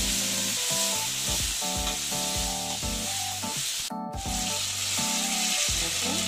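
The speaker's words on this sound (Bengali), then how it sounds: "একটু হলুদ দিয়ে দিচ্ছি, দিয়ে আলুটাকে না আমি ভালো মতন ভেজে নিচ্ছি।" Potatoes fry with turmeric in a pan under a loud, steady sizzle, and repeated scraping stir strokes break in rhythmically throughout, with no talking.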